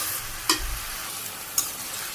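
Jute leaves and potato curry are sautéed in a pan, giving a close, steady sizzle broken by two sharp scraping clinks of the utensil against the pan.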